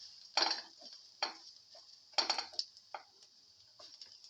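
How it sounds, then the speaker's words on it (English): Onion pieces being sautéed and stirred in a pan for a winter melon, potato and peanut dish: a few sharp utensil scrapes and clinks against the pan at irregular intervals, close and moderately loud, with no talking. "Keep on sauteing. Thoroughly saute and mix the"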